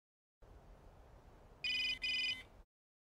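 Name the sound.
phone ringtone in anime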